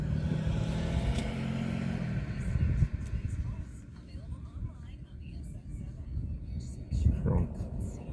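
A car passes outside a hospital, its engine rumble swelling and then fading over several seconds. Someone talks quietly over the traffic noise.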